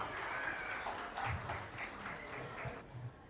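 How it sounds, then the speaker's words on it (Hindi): Audience clapping in welcome for a pastor at a Christian wedding gathering, a steady wash of many hands at moderate level with a few louder bursts, continuing for a few seconds without any talk. "उनके लिए हम ताली बजा के स्वागत करते हैं"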